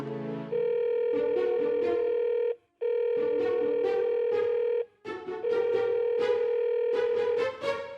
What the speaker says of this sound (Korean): 일주일은 너무 긴데 포테루한테 전화 걸어봐야겠다